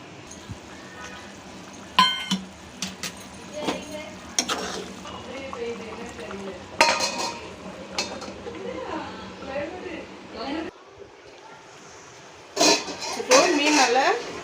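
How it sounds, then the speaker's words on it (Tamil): Mango pieces go into a pot of fish curry boiling in a home kitchen, with scattered metallic clinks of a spoon and pot, a soft bubbling bed and someone talking throughout. "ஸோ இப்படி கொதிச்சுட்டு இருக்கும்போது நம்ம இந்த மாங்காவை சேர்த்துப்போம்."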